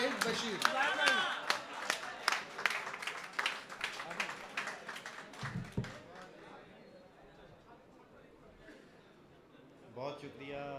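Audience at an Urdu poetry mushaira claps and cheers in a dense burst of applause that thins out midway, with the host's voice announcing over it.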